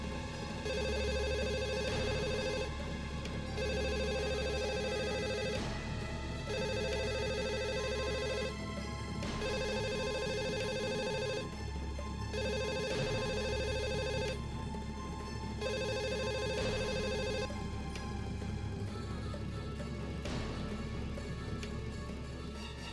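A telephone rings repeatedly in steady, evenly spaced bursts of a bright electronic bell tone, loud and close, over a constant background hum.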